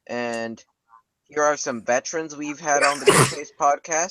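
A single sharp sneeze bursts out during a podcast recording, landing in the middle of continuous talk from a host.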